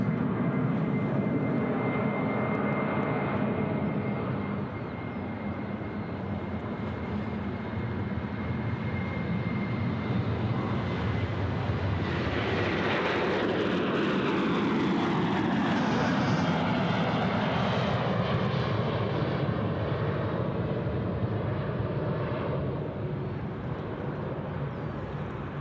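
A Velocity airliner bound for Melbourne roars down the runway on its takeoff roll at Sydney Airport, a loud, sustained jet engine rumble that swells and shifts in pitch as the aircraft accelerates and climbs away.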